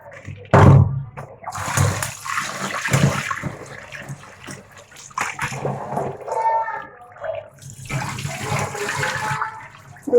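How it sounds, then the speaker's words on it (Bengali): About 750 grams of rice being rinsed in water, with uneven bursts of sloshing and splashing as the grains are swirled and drained, near and fairly loud. "একটু চালটা ধুয়ে নেবো ভালো করে"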